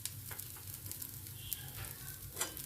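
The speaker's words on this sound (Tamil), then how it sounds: "இது வறுபடட்டும்." Sambhar ingredients frying in a pan make a faint, steady sizzle with light crackles and a few soft stirring touches, quiet and close, with no talk.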